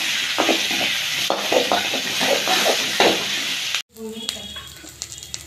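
Onions, curry leaves and green chilies hiss and crackle in a hot pan with repeated stirring scrapes, a short break, then quieter sizzling; talk is mixed in.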